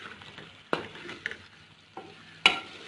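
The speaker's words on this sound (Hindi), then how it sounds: "अब ऐसे ही मैं इसको अच्छे तरीके से भून लेती हूँ 2 मिनट।" Chicken karahi with ginger garlic paste sizzles in a pan while a spoon stirs it, giving a steady frying hiss broken by a few sharp scrapes and clinks of the spoon against the metal.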